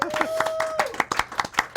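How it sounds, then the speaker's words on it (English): A handful of sharp hand claps ring out at an uneven pace, mixed with a steady tone and some background voices. "Clap."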